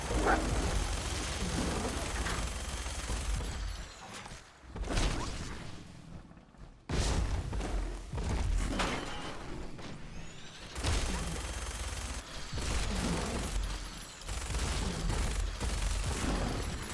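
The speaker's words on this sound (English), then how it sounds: "Everything's exploding." Explosions rumble and crackle in Fallout 4, heavy dense blasts in long sustained stretches with brief quiet gaps between them and faint talk now and then.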